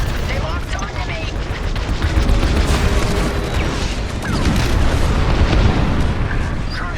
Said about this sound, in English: Cruiser destroyed.